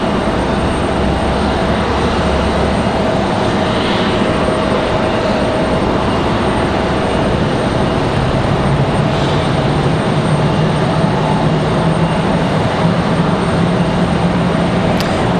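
An Air Canada passenger jet at Raleigh Durham airport produces a loud, steady roar of jet engines that fills the whole stretch, with a low rumble rising slightly as the aircraft draws nearer.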